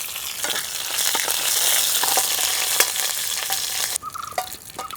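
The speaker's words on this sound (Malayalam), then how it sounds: "കടുക് പൊട്ടിയതിൻ്റെ മുകളിലേക്കായിട്ട് കറിവേപ്പിലയും മുളകും" Curry leaves and chillies sizzle in hot coconut oil over popped mustard seeds and fenugreek, a loud steady frying hiss with sharp crackles and pops that quiets abruptly near the end.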